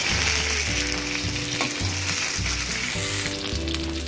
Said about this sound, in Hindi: अब मैं आलूओं को फ्राई कर लूंगी अच्छी तरह।